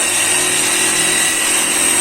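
An electric drill bores into a wall while casing and capping is fitted for home wiring. It gives off a loud, steady, high whine with harsh grinding noise that runs unbroken through the whole stretch.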